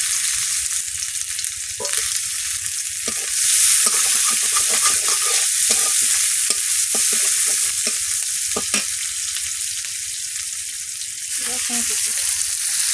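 Chopped onion frying in hot oil in a pan, a steady loud sizzle broken by scraping stirs, during home cooking of a Bengali pointed gourd and shrimp dish.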